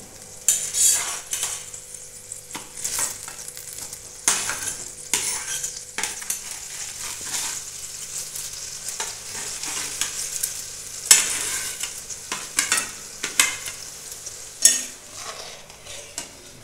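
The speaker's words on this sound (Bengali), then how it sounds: "এবার ভেজে রাখা আলু আর চালগুলো দিয়ে দেব।" Fried potatoes and rice are tipped into a sizzling pan and stirred for paneer gobindo, repeated scraping strokes and bursts of hiss over a steady fry, close with no talk.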